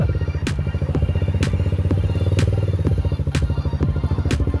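A Honda CRF250 dirt bike engine idles loud and close, its rapid single-cylinder thump running steadily with periodic sharper cracks and a faint clatter, no voices over it.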